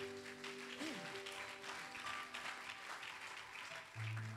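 A church congregation applauds during a sermon. The clapping is faint and distant, with sustained tones from instruments or singing underneath.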